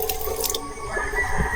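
Water runs from a sink faucet in a campsite restroom at Isla Rebelde, Antipolo, a steady splashing stream with a few drips, close and moderately loud, without talk.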